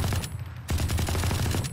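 Rapid automatic fire from the Ares machine gun in Valorant: two close, loud bursts of quick rattling shots separated by a brief pause.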